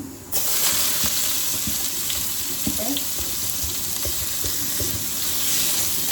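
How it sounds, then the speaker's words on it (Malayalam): Sliced onions and green chillies frying in oil in a wok for a mutton curry, a steady sizzle with faint stirring clicks running throughout at moderate loudness. "കുറച്ച് എണ്ണ ഒഴിച്ച് അരിഞ്ഞു വെച്ചിരുന്ന സവാളയും പച്ചമുളകും"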